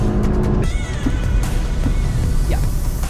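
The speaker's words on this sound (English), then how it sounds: "See how loud that car gets." A fifth-generation Honda City 1.5 i-VTEC travels at high speed, its loud interior road and engine roar continuous and close, with a faint rising whine from the drivetrain.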